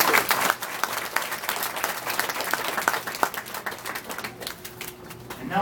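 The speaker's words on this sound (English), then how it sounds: "Now let's give that alligator a big round of applause." An audience at a reptile attraction's alligator show breaks into sustained applause, a dense wash of clapping with scattered sharp claps and a few cheers, fairly close and lively throughout.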